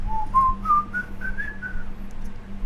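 A person whistles a short rising tune, clear pure notes stepping upward then holding, close and alone over faint background hum.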